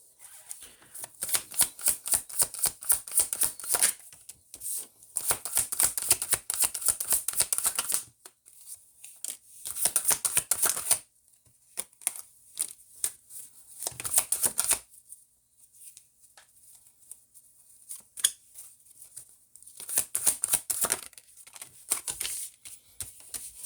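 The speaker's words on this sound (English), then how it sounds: "let's go ahead and pull some cards" Tarot cards are shuffled by hand in quick, crisp bursts of riffling and flicking, several seconds each, separated by short pauses, close and fairly loud with no talking.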